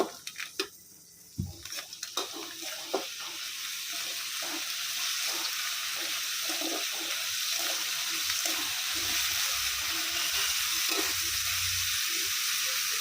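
Ingredients for Coimbatore-style horsegram thokku sautéing in a pan, a broad steady sizzle that swells and holds after a few sharp opening clatters, with intermittent stirring and a watery hiss underneath, no voices.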